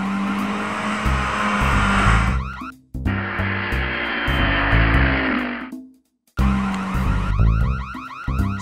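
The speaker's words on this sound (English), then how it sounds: "Wow, Robin, cool car. Thanks. It's super fast" A fast cartoon car from Teen Titans Go roars off with revving engine whines, tire squeals and cartoon effects in loud bursts, with two brief drops to near silence between them.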